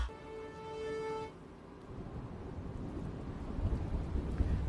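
Heavy afternoon rain pours down steadily with a low thunder rumble, opening briefly over a tonal sound before settling into a dense, building downpour.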